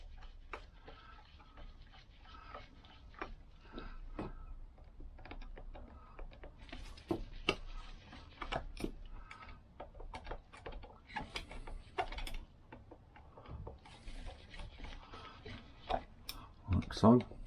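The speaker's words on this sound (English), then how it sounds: "Then all we've got to do then is do up our 2 screws." A screwdriver tightens two screws into the soft aluminium carburetor of a Vespa scooter, giving faint, quiet mechanical ticks and small clicks scattered through the passage while someone talks.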